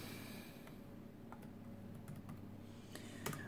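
Keys tapped on a Fujitsu Lifebook T580 2-in-1 laptop keyboard, a sparse run of faint, scattered clicks under a steady background hum, with one slightly louder click near the end.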